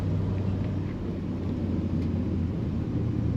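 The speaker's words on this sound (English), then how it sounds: "The sound, the exhaust sound of this car even fits it so well." Low, steady exhaust rumble from a 1959 Chevrolet Bel Air two-door post with manual shift, a continuous deep drone at moderate level without any voices.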